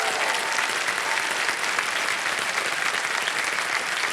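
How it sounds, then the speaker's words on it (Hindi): A studio audience on a televised quiz show applauds a contestant's husband, a dense, continuous burst of clapping from many hands, loud and unbroken for several seconds. "ताली बज जाए इनके लिए"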